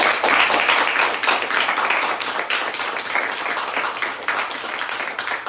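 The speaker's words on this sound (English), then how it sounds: "So if you could just give them a round of applause before we get started." Audience applause welcoming guests at an event about peace in the Middle East, sustained, dense clapping from a sizable crowd, loud at first and easing slightly while continuing throughout.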